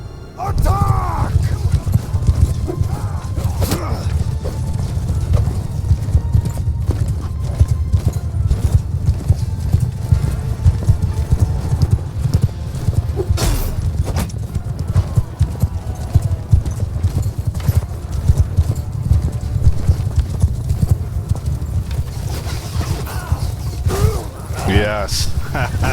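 Cavalry horses gallop in a Bannerlord battle, a dense continuous clatter of many hooves with occasional whinnies, loud and steady throughout, mixed with battle noise and some talk over it.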